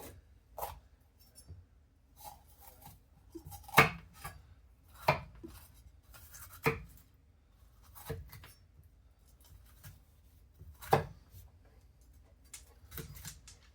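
A knife slicing bell pepper into strips on a cutting board, a series of separate soft chops and taps at irregular intervals, quiet and close with no voices.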